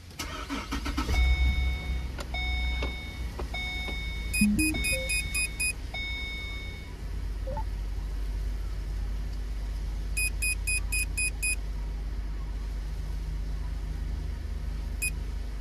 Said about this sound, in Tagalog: subukan natin paandarin yung makina